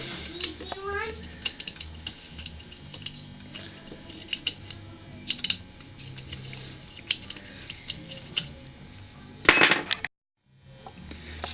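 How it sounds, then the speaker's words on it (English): Bolts being taken off a pump by hand, with light metallic clinks, taps and small clatters of loose parts close by, ending in a brief louder rattle before a short pause. "4 bolts come off here."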